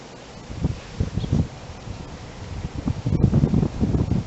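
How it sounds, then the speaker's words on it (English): Outdoor wind buffets the microphone in low, uneven gusts, rising and falling over a muffled rumble with a stronger gust toward the end; no one speaks. "A little bit of wind."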